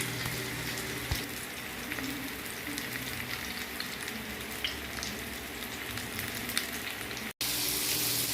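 Hilsa fish sizzle steadily in hot oil in a pan over medium heat, a close, continuous crackling fry with no voices, briefly cut off near the end before the sizzle resumes.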